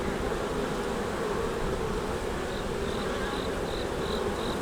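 Honeybees buzzing steadily around an opened hive frame of brood, a dense continuous hum close by with a faint high chirp of insects in the background and no talking.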